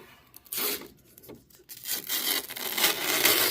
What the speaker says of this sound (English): Let's remove a little bit of the cellophane from the roof here.